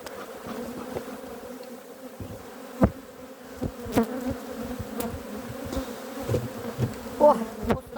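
Bees buzz steadily and loudly at a beehive after prolonged rain. Individual insects pass close by and their drones rise and fall over the humming swarm.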